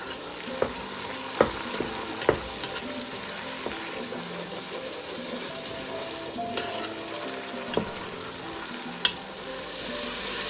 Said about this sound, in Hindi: मसाला अच्छी तरह भून लिया।